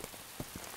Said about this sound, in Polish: Zaczyna padać.